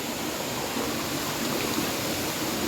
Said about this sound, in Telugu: అక్కడైతే వాటర్ ఫాల్స్ పైనుంచి అయితే పడుతుంది